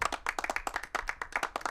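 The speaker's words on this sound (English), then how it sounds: "let's throw in a little audience applause sound effect" Short audience applause sound effect, a quick burst of separate, crisp hand claps in an uneven rhythm, fairly faint and close.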